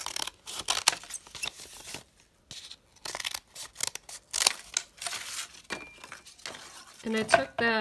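Scissors cut through folded brown paper in a series of crisp snips and crunchy rustles, close and uneven in rhythm, with short pauses between cuts and a brief voice near the end.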